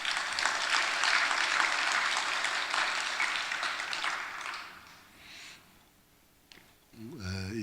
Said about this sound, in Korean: 한번 박수 쳐줘요